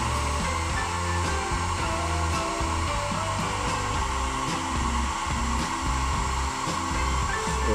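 A hot-air blower runs steadily at close range, heating a plastic motorcycle helmet to fit a GRX chin mount, its loud whooshing drone unbroken throughout.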